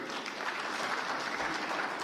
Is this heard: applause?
yes